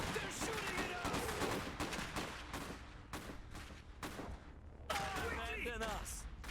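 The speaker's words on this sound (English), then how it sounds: "Oh, they're shooting at us." Enemy units firing in the real-time strategy game Iron Harvest, rapid gunshot bursts and machine-gun rattle throughout, mixed with unit voice lines and a person talking over it.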